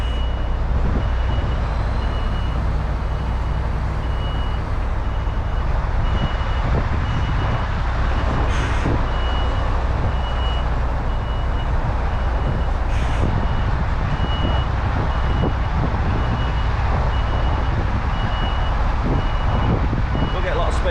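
A truck backs into an empty parking bay at a motorway services, its reversing beeper sounding in a steady repeating tone over loud engine rumble and idling, close by, with a voice talking at times.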